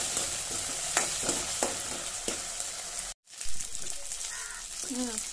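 Mushroom Manchurian with red and green chilli and soy sauce being stirred in a hot pan, a constant sizzle broken by rhythmic scraping strokes and a brief gap, with a voice heard faintly near the end.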